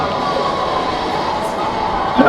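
In GTA 5 gameplay, a passing train gives a steady, broad rumbling roar with clattering noise throughout, fairly loud and continuous, swelling slightly at the end.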